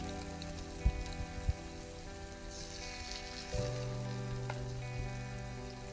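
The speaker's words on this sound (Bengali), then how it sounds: "অল্প অল্প করে বড়ার থেকে আমি এটা ভেজে নেব" Gram flour boondi for motichoor laddu fries in oil with a faint, soft sizzle under a low steady hum, broken by a few light taps of a utensil, with no speech.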